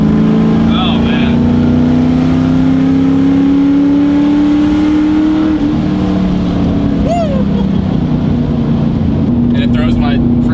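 A car engine is held at wide open throttle in a loud, sustained, close-up roar with a steady high whine that climbs slightly, resembling a race car.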